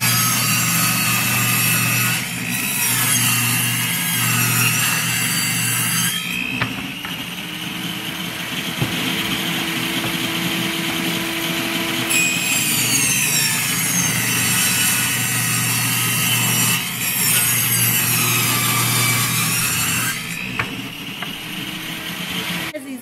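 A power saw cuts through wood for a sheep fence, loud and steady with long droning passes and a few brief breaks between cuts.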